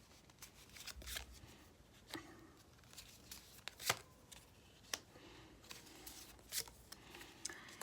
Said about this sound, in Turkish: Cevabına bir kart alalım.